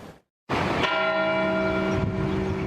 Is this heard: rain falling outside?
no